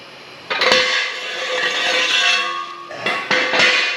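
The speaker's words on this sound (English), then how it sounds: "that noise was definitely just me releasing the locks" Locks on a two-post car lift are released in a garage, giving a few sharp metallic clanks with ringing resonance, separated by a sustained metallic hum, close and fairly loud with no speech.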